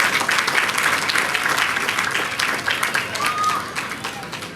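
Crowd applause for New York City police commissioner Jimmy O'Neill, a loud continuous burst of many people clapping with cheers and voices underneath that gradually thins out.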